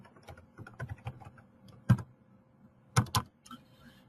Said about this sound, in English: let's go ahead and type in instructions.